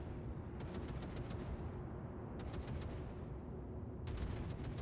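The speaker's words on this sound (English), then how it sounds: "I'm still under fire from the enemy Mogami" Naval gunfire in World of Warships plays as three quick salvos of sharp, rapid cracks over a constant low rumble of ship and sea, each burst a cluster of about six shots.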